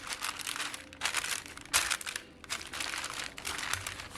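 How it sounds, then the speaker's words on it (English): Parchment paper crinkles and rustles in several bursts as it is laid over a keto chicken pizza crust, close and fairly loud, with no talking. "take the other piece of parchment paper, put it over the top"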